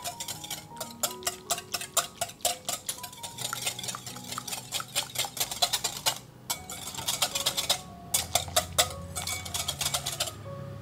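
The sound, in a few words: stirring sweet Yakult sauce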